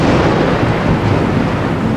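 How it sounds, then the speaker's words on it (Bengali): A loud, heavy thunderclap rolls through a storm as a deep, continuous rumble with a dense wash of rain and wind beneath it. "এমন সময় বিকট বাজ পড়ার শব্দে সে কেঁপে উঠল।"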